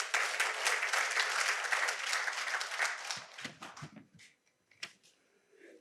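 A lecture audience applauds during a Korean university talk, a brief burst of clapping that fades out after about three seconds, leaving a few scattered claps.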